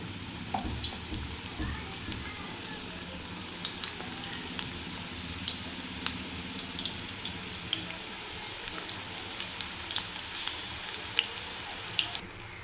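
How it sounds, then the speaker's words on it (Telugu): Brinjal pakodas with green chillies fry in hot oil, a steady close sizzle with scattered crackles and pops throughout. "పకోడీలు వేగుతున్నాయండి."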